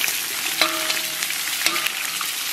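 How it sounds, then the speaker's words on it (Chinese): Scallion and ginger sizzling in a wok with beef, a steady loud frying hiss up close, broken by a couple of sharp clinks of a utensil against the pan. "然后把葱姜给它爆香"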